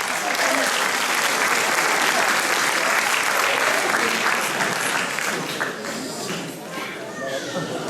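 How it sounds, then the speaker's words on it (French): A festival crowd at Italofolies 2015 gives sustained applause for the Fratelli Brothers, thick clapping that slowly thins toward the end, with voices underneath. "Un tonnerre d'applaudissements pour Fratelli Brothers."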